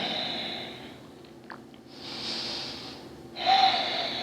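Slow, deep breaths during a yoga pose with fingers interlaced behind the back and chest open, long soft airy inhales and exhales close to the mic in a quiet room.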